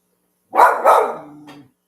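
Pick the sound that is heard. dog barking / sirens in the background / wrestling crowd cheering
dog barking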